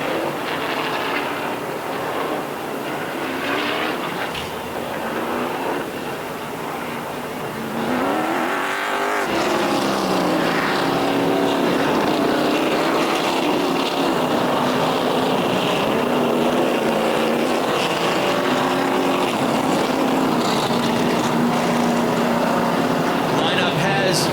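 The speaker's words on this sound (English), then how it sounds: "Feature of the night rolls onto the track for the Norms Used Cars Pro Stocks" Pro Stock race cars roll onto the track at a night oval race, their engines roaring and rising and falling as the pack circulates. The sound stays loud and continuous under an announcer's commentary.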